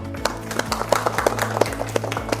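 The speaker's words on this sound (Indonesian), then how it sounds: "Beri aplaus untuk kelompok 3." A classroom group applauding a student team after a mocktail-making presentation in a food and beverage class, brisk uneven clapping from several people over a steady low background hum, fairly close and moderate in level.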